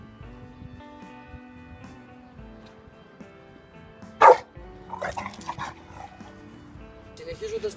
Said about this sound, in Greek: ο σκύλος δεν δέχεται και κάνει επίθεση